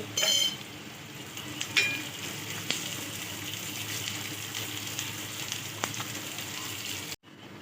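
Tempering (vaghar) for Surat-style sev khamani sizzles steadily in hot oil after a spoonful of sugar goes in, a continuous close frying hiss with a few small clicks from stirring, alone with no talk, cutting off sharply near the end.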